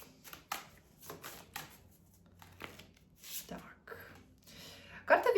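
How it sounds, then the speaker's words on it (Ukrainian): Soft riffling and slapping of tarot cards being shuffled, a series of quick irregular flicks at low volume, ending in a louder burst. "у нас уже карти самі сипляться"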